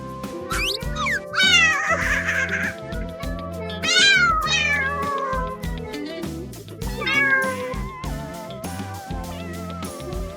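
A cartoon kitten meows several times in rising, wavering cries, each one distinct over a lively, bouncy musical score that plays throughout.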